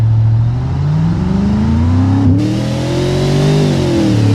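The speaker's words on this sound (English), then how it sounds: "Hear how the powerful engine accelerates" The Burnside Special's powerful car engine in BeamNG.Drive revs up loud and close, rising in pitch, briefly dipping at a gear change, then climbing again before easing off.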